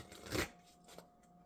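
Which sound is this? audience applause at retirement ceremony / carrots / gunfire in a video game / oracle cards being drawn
oracle cards being drawn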